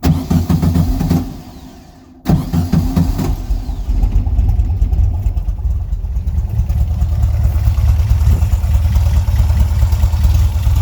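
A VW Volksrod engine with Weber IDF carburetors cranks briefly, pauses, then fires up and settles into a loud, steady, close idle that rumbles on to the end.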